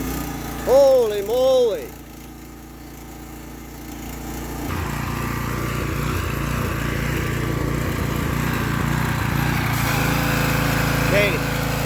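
The small gas engine of a power washer starts after a burst of voices, then runs as a steady, rough, buzzing drone at mid distance under occasional talk.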